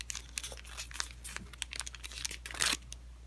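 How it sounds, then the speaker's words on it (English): Paper creased and folded into an origami Venus flytrap, a run of soft crinkles and crisp rustles with a sharper crunch near the end, close and alone. "Fold this crease to this crease"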